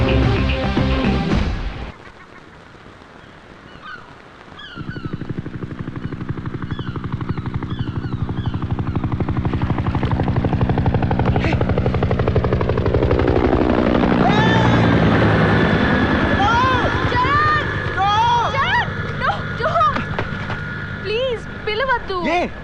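A helicopter flies overhead with a loud, continuous rotor roar that swells and sweeps past, holding steady for most of the stretch after a brief quieter gap.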